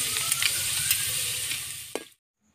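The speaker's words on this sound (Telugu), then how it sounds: "ఇప్పుడు అందులో కొంచెం కొంచెం వేసుకుంటూ సగ్గు బియ్యం వేపుకోవాలి" Sago pearls fry in hot oil in a home kitchen, a close, dense crackling sizzle with a few sharper pops and stirring clicks that stops abruptly near the end.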